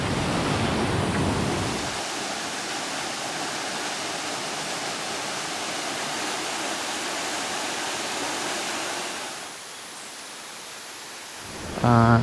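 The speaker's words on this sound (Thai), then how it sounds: "น้ำตกตรงนี้ครับ" Waterfall near Khiri Wong village roars as a steady broad rush of water, loud and continuous, briefly easing before a sudden close burst at the end.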